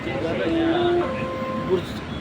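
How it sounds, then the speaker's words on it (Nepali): Steady low rumble of a moving train carriage, with a voice speaking over the rolling hum. "ट्रेन चाहिँ चढेर अब ट्रेनमा बसेको छु"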